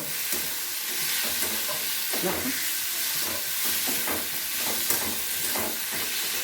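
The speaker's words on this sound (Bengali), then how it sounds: "এবার আমি এই লতিগুলো দিয়ে নেব দিয়ে ভালো করে মিশিয়ে নেব" Taro stolons stir-fried with prawns in a pan give a continuous hissing sizzle, with occasional scrapes and clinks of the spatula as the mixture is turned, close and fairly even throughout.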